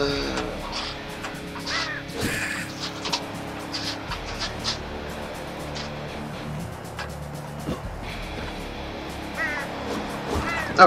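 Bird cawing in the video game Slain, harsh crow calls repeating over busy game sound effects and music, with a player talking at moments.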